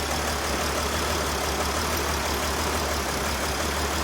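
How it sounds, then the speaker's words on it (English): A Mercedes Sprinter van engine with a cylinder misfire idles close by in a workshop, giving a steady, loud, continuous rumble with no talk. "Okay, so the engine is running."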